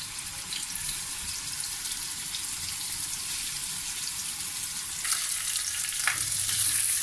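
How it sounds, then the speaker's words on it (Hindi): Fish pieces frying in a little oil in a frying pan, a steady close crackling sizzle that brightens and grows slightly louder near the end, with a brief clink or stir partway through. "थोड़ा सा आपने इसको साइड पर फ्राई करना है, थोड़ा सा दूसरी साइड पर।"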